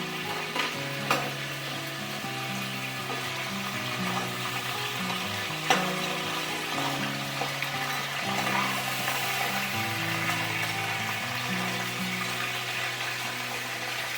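Crabs frying in a pan for a spicy crab fry give off a continuous close sizzle with occasional stirring clinks and scrapes, and no talking.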